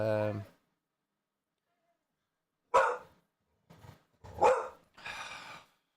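A dog barks in a few short, separate bursts, near and fairly loud, with silent gaps between them and a brief voice at the start.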